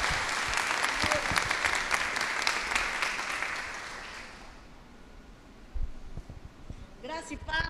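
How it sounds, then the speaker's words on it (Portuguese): A church congregation claps loudly for several seconds, the applause fading out around the midpoint before a voice begins speaking near the end. "Vamos aplaudir o Senhor Jesus?"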